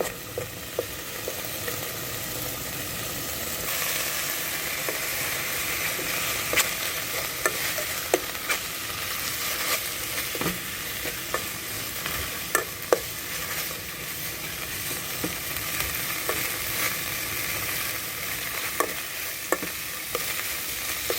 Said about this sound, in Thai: หลังจากนี้ผมจะเอาเนื้อ ลงไปผัดคู่กับพริกแกงเขียวหวาน